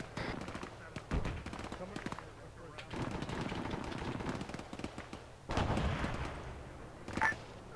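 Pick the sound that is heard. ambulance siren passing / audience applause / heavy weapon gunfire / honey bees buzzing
heavy weapon gunfire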